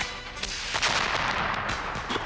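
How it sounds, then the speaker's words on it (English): Fireworks exploding over Midtown in a sitcom scene: a dense, continuous barrage of booming bursts and crackles, loud and overlapping throughout the short stretch. "Now, without further ado, 3 hours of fireworks."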